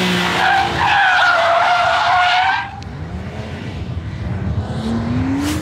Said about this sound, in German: Also der ist 84 km/h rückwärts gefahren, oder?